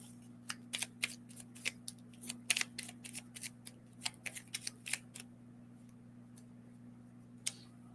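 A deck of cards being shuffled close by, a quick run of crisp riffling snaps and flicks that clusters over several seconds, then thins to a single last flick, faint over a low steady hum.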